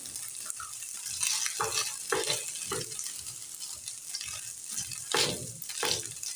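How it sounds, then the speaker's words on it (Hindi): Chicken fries in a pan for a patty filling, giving a hissing sizzle broken by bursts of stirring and scraping at close range. "यहाँ पर हमने चिकन को भूनते हुए 4 से 5 मिनट हो चुके हैं।"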